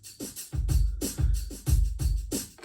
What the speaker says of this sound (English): So I've got pre-recorded rhythms on here.